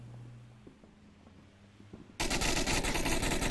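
A loud, sustained machine-gun burst of suppression fire in the VR shooter Onward cuts in abruptly after a quiet stretch of faint ambient noise and scattered small clicks, then continues as a dense, continuous rattle.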